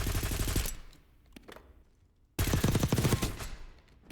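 A weapon test-fired in Call of Duty Warzone, loud bursts of automatic fire that stop, leave a quiet gap with a few faint clicks, then start again with a second close, heavy burst.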